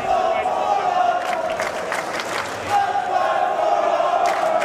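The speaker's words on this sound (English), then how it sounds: "And the crowd getting active behind me here as we still await the start of the 4th period" Spectators at a college water polo match between Fordham and Princeton, waiting for the fourth period to start, cheer and shout in a steady, lively din, with individual calls rising over the crowd's continuous noise.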